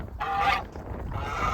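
A male goose on a homestead honks loudly and close by, with two harsh calls separated by a short gap, and no talking.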